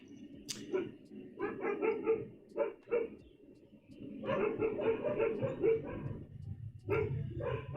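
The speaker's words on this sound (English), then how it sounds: "the dogs were just barking at a truck or something that went down the street" Several dogs bark in bursts at a truck passing down a street, loud repeated woofs with short yips and whimpers between them, heard indoors with a person talking in the background.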